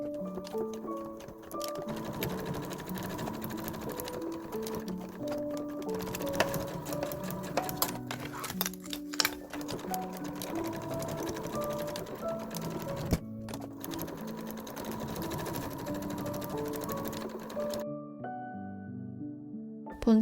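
A sewing machine stitches the sides and bottom of a folded pocket onto bag lining fabric with a steady rapid ticking whirr, close and continuous for about eighteen seconds under light background music, then stopping.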